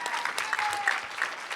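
Applause from an audience at a Mom's Coalition political gathering, a dense, steady patter of clapping that fills the moment at moderate loudness, with a voice faintly underneath.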